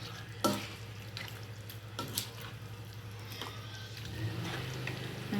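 Pork menudo with liver being stirred in a pot as it starts to boil, with a few soft scrapes and knocks of a spoon over a low steady bubbling hum, close and fairly quiet.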